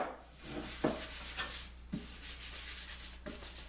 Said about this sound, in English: I think I'll run the sander over the rest of it.